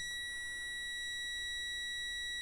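A multimeter in continuity mode gives a steady, unbroken high-pitched beep while probing a short to chassis on a Carver M-1.0t power amplifier during repair; the tone is clear and constant with no talk.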